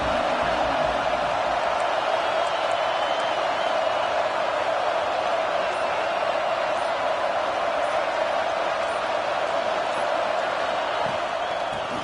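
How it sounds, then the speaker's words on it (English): A college football stadium crowd for the Aggies keeps up a dense, loud, continuous roar, with no breaks, throughout a long stretch. "This crowd ready to make its presence known"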